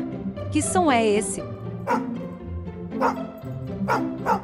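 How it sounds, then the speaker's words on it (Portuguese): A dog barks several times in short, yappy bursts after a person speaks briefly; the barks are close and clear with a whiny edge. "Isso mesmo, é um cachorro."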